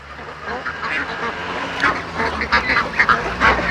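Several ducks quack repeatedly in a busy, overlapping chorus, fairly close, growing denser toward the end, with faint background noise.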